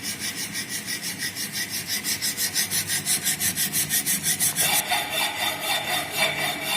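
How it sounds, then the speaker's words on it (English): A smooth file worked across metal in a fitting shop, steady rhythmic rasping strokes, about a dozen back-and-forth passes, close and fairly loud with no talk. "when we are performing the file operation"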